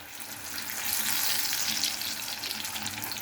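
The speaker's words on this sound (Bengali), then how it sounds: "আমি আজকে এরকম করে ভেজে নিচ্ছি বেগুনিটা।" Small eggplant fritters (beguni) fry in hot oil, producing a continuous, dense bubbling sizzle that swells slightly in the middle and stays close and steady throughout.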